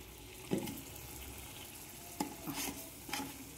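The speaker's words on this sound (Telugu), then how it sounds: "ఈ గ్రేవీని లైట్గా రోస్ట్ చేసుకోవాలా" Mandi gravy lightly roasting and being stirred in a pan, a soft steady sizzle broken by a few distinct stirring scrapes and knocks, close and alone with no talk.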